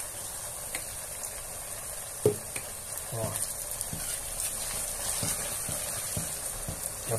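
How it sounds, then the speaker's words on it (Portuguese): A spoon stirs bean broth (caldo de feijão) with bacon in a pot: soft scraping and wet clinks spaced irregularly over a faint constant simmer and hiss, fairly quiet, with no talking. "vamos mexer"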